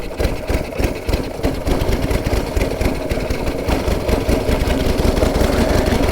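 A 109-year-old TT racing motorcycle engine runs at full throttle, loud and close, with a dense rapid firing rhythm that holds steady throughout.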